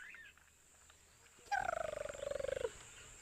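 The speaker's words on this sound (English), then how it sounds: "that cute giggling sound you heard, those were the little grebes" Little grebes on the water give a quick, bubbly trilling giggle, a rapid pulsing call lasting about a second over faint outdoor background.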